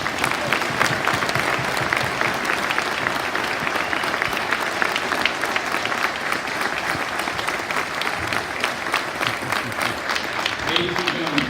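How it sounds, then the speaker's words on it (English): Sustained applause from a large crowd honoring soldiers at an Army National Guard graduation ceremony at Fort Benning, Georgia, steady and dense throughout with no pauses. "please join us in giving these fine soldiers a round of applause"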